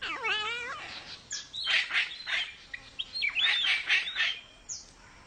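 Raspy, squawking cockatoo calls trade back and forth at close range at a nest hollow, with harsh screeches and softer chatter in short bursts.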